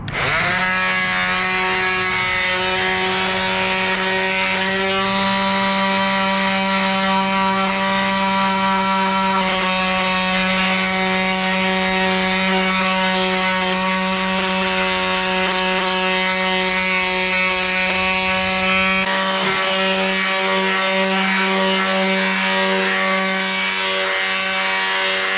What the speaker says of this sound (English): start sanding the stained boards